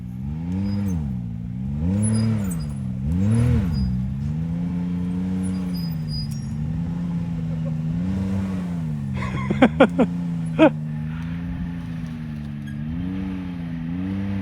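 An ATV engine idles and revs in repeated rising-and-falling surges, then settles into a steady drone, close and fairly loud, with a few sharp metallic clanks midway.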